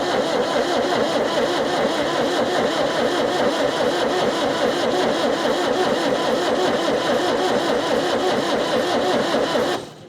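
An engine on an old Australian vehicle cranks steadily after its injectors are bled, a loud, even mechanical churn with a faint firing rhythm running for about ten seconds before cutting off abruptly at the end.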